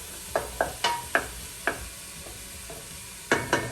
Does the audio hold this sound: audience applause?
no